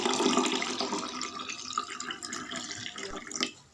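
Orange juice pours into a glass in a continuous liquid splash and trickle, loudest at the start and easing toward the end. No one speaks.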